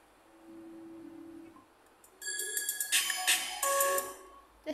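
A ringtone plays on a Poco M5 smartphone, with bright repeating electronic tones entering after a quiet stretch and sounding loud and close in short bursts.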